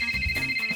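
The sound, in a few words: mobile phone ringtone in a cartoon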